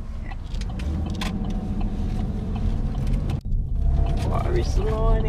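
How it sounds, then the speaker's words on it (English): A car passes on the road, heard from inside a moving truck over a steady rumble of engine and road noise, with a brief dip and a slight swell as it goes by. "Car coming."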